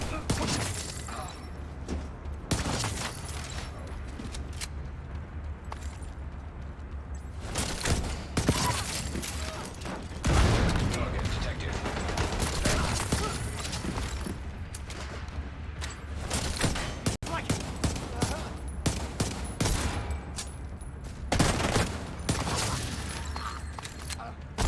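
Gunfire from The Division 2, with repeated bursts of automatic shots and booms at a steady, fairly loud level across a long stretch, mixed with mechanical clanks and game effects.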